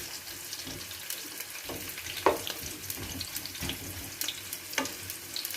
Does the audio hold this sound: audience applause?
no